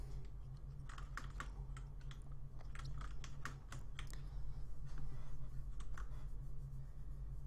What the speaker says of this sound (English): I could be typing faster, I'm just doing it slow to make sure so I don't mess anything up and need to retype it